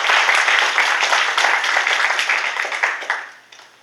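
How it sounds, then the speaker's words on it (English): A crowd at a university graduation ceremony applauds with dense, continuous clapping that holds steady, then tapers off and fades toward the end. "let's give them a big round of applause"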